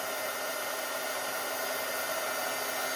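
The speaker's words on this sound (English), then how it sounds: "Hit it with a heat tool." An embossing heat tool blows steadily as it melts white embossing powder on a card, a constant airy hiss like a hair dryer that stays level and close for the whole stretch with no talk.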